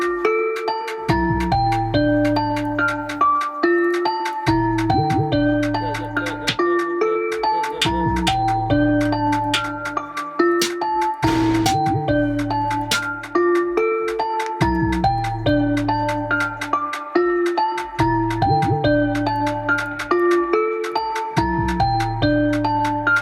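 A bell melody in a drill beat being made in a studio at around 135 BPM: bright, ringing bell notes repeating in a looping pattern over a deep bass, steady and loud throughout.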